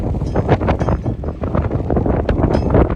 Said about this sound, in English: It's also really windy.